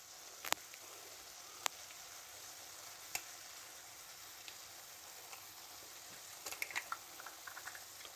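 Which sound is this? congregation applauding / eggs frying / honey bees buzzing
eggs frying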